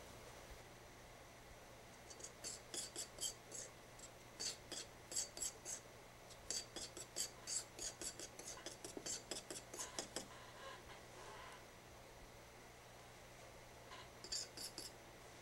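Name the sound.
mixing incisal porcelain for a dental crown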